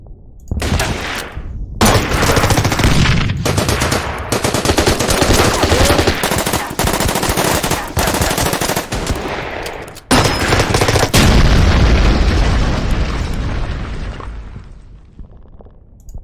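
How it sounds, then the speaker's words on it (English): Anti-aircraft gun firing in the wartime strategy game Order of Battle, loud rapid bursts of automatic fire with booming impacts, a brief gap near the start and a short break midway before the firing resumes and slowly fades. "Oh, it's an anti-aircraft gun."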